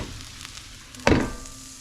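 Fresh-caught Gulf fish frying in a pan, a steady close sizzle with a sudden louder burst of spattering partway through, then the even crackle resumes.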